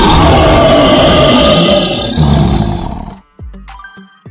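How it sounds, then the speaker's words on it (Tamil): Lion roar in a children's animal sounds lesson: one long, loud, rumbling roar lasting about three seconds, fading out before a short bright chime. "சிங்கம்,"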